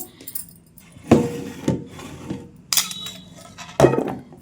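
Thinly cut raw green tomatoes dropped into a bowl, a few sharp clattering knocks and scrapes at irregular moments, close and clear with quiet gaps between.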